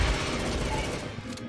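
Rapid automatic gunfire from a shooting video game, with dense, continuous bursts of shots that blur together loudly through most of the clip before easing slightly at the end.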